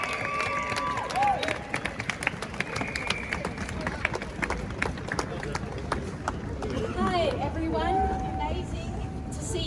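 A large crowd gathers at a protest rally and march outside Sydney Town Hall, with steady murmuring and chatter all the way through and voices talking over it.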